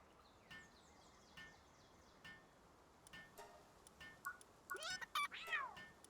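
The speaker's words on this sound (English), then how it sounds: "We've got our Cativa cat." A Cattiva cat creature from the video game Palworld meows in a series of short calls over a quiet hiss, the calls growing louder and more frequent toward the end.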